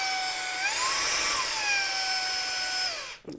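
A compact HOTO Compressed Air Capsule electric blower spins up with a sharp, high-pitched whine, shifting pitch as it revs, then cuts off abruptly, followed by a brief clunk.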